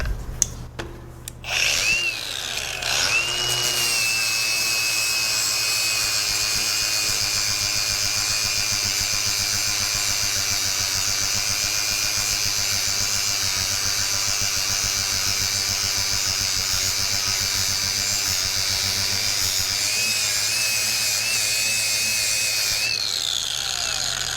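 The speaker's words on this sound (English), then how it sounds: "I need to grind that smooth so I can weld in the cross brace" Angle grinder working steel on a home-built ATV trailer, a loud, steady high-pitched whine with abrasive grinding held for about twenty seconds, starting after a few brief spin-ups and fading slightly near the end.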